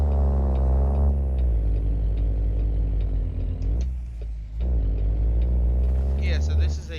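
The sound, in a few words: 700 horsepower truck engine in American Truck Simulator video game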